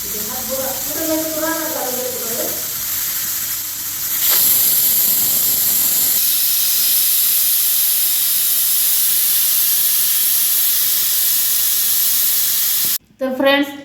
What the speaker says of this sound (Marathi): कुकरच्या आपल्याला 2 शिट्ट्या घ्यायची।